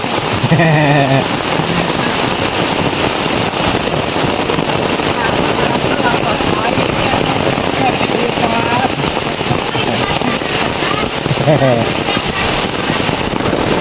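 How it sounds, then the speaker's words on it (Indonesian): Heavy rain pours steadily and loudly in a quiet village setting, a dense continuous hiss with splashing water throughout, and a voice briefly heard near the start and again later. "Hujannya sangat deras."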